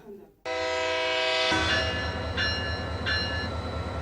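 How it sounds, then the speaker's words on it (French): A train whistle blows loud and close in one long sustained blast, with rumbling rail noise underneath and a couple of shorter pulses near the end. "voilà de nouveau le train qui siffle à Signena après une semaine de rupture"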